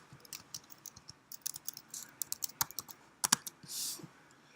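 Typing on a computer keyboard during a Python data analysis session: a brisk run of sharp key clicks of uneven rhythm, close and clear, ending with a longer hiss-like key press, with no talk.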